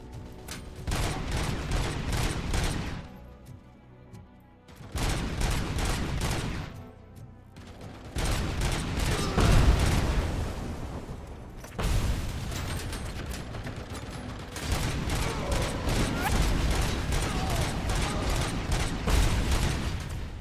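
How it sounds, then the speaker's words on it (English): Heavy gunfire from enemies with ordinary bullet guns in RoboCop: Rogue City, loud sustained bursts of rapid shots in several long volleys separated by brief pauses, with clattering mechanical sounds between them. "I think those guys are just shooting me with regular bullets"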